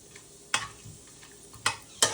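Whole spices (star anise, cumin, cloves, cardamom and cinnamon) go into hot oil for a meat curry, making a faint sizzle broken by three sharp stirring clacks in quick succession.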